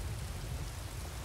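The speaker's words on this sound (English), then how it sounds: "Let's not stand out in the rain like that." Rain falling in the video game Skyrim, a dense steady hiss of drops with a low rumbling undertone, continuous and close with no voices.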